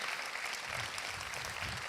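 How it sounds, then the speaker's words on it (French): Brief burst of audience applause at an evening awards event, a soft, dense wash of clapping lasting under two seconds. "Laura, on peut les applaudir, effectivement, merci."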